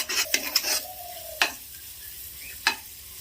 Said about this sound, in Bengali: এবার ভালো করে কষে নেব আদা রসুন পেস্ট দিয়ে।